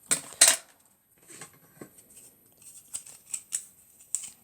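Scissors cutting yellow ribbon at a craft table, two sharp close snips at the start followed by lighter scattered clicks and rustles of handling.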